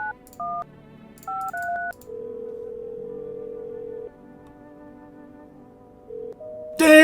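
Telephone keypad tones in the game No, I'm Not a Human: a quick run of short dialing beeps, then one long steady tone, a brief pair of notes, and a sudden louder burst at the end.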